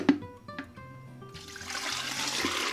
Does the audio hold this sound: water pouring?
yes